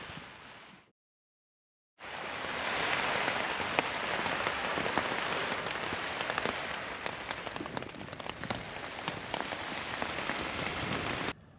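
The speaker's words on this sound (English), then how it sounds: "I love the sound of the rain on the roof" Steady heavy rain drums on a roof at a backcountry camp in New Zealand, a dense loud hiss with scattered sharper drop hits, briefly cut to silence before resuming.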